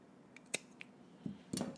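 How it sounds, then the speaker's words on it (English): Scissors snipping through zipper tape during a sewing project, a few short dry snips spaced apart, close and fairly quiet with no talking. "So I'm gonna go ahead and just cut these off"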